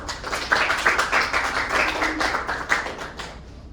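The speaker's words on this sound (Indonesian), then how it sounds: "Semuanya sekarang kita beri aplaus untuk kelompok satu." A classroom group claps for group one: many hands clapping quickly and steadily for a few seconds, then fading out at the end.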